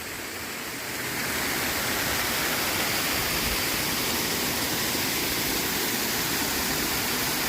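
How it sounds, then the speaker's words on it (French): Canal water of the Canal de Castilla cascading down a series of steps, a steady loud rushing roar that swells slightly in the first second and then holds constant. "L'eau descend en escalier."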